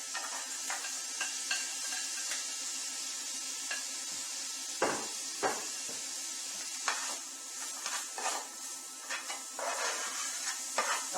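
Onion sautéing with ginger in a hot pan on high heat for butter chicken, a steady close sizzle broken by scraping stirs and clinks of a utensil against the pan, with no talking.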